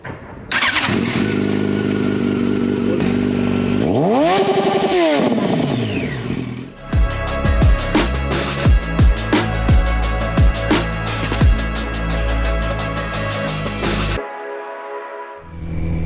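A 2008 Yamaha FZ1 motorcycle cranks and fires up, its engine rising and falling through a few loud, close revs before settling into a steady, rumbling idle that cuts off near the end.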